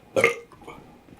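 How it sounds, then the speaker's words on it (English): A single loud, close burp erupts briefly, followed by faint low rumbling. "3 burps"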